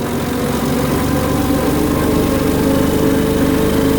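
A tractor engine runs steadily and close by while riding along a fence row, a continuous even rumble with a buzzing overtone and no pauses.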